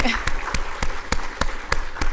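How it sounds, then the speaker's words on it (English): Audience at a sports symposium giving a round of applause, with distinct, fairly loud claps spaced at a steady rhythm over a soft background murmur. "Can we give her a round of applause"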